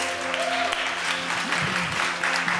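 A church-service audience applauds after live music, with dense steady clapping throughout and a voice speaking briefly underneath.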